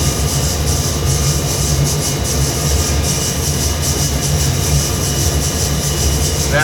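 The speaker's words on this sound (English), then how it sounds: "it'll go to that big noisy machine behind me there that you hear in the background" A large polishing machine in a jewelry workshop runs loudly and steadily throughout, a dense continuous mechanical roar with low hum and broadband whir, no talking.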